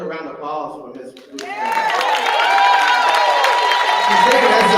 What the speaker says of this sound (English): how about another round of applause for Ms.